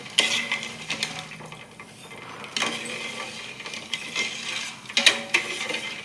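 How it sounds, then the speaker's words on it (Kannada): A spoon stirs sugar syrup with cardamom in a pot. It gives intermittent scraping and clinking strokes against the metal, a few louder knocks spaced a second or two apart, close and clear with no talk. "ಸಕ್ಕರೆಯನ್ನು ಸ್ವಲ್ಪ ತಳ ಹತ್ತುತ್ತದೆ, ಹಾಗಾಗಿ ತಿರುಗುತ್ತಲೇ ಇರಬೇಕು ಸ್ವಲ್ಪ ಹೊತ್ತು"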